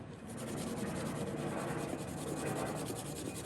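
A cloth wipes WD-40 over a vintage Craftsman model 315.7790 drill, producing a continuous close rubbing swish with a faint repeating rhythm of strokes, steady and moderately quiet with no voices.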